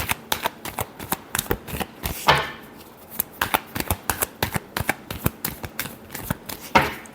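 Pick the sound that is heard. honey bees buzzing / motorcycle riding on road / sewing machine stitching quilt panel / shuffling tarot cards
shuffling tarot cards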